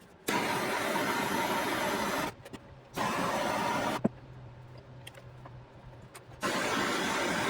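A torch heats a metal rod for a solar camping light, with a steady roaring hiss that bursts on and off in three stretches, separated by quieter gaps with a low hum and small clicks.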